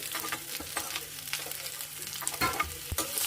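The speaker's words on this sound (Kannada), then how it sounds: "ಸ್ವಲ್ಪ ಎಲ್ಲ ಬಾಡಿಸ್ಕೋಬೇಕು. ಸಣ್ಣ ಉರಿಲಿ ಬಾಡಿಸ್ಕೊಳ್ಳೋಣ." Cumin, garlic and onion sautéing in a pan over a low flame, a soft steady sizzle broken by scraping stirs and a few louder clinks of the spoon near the end.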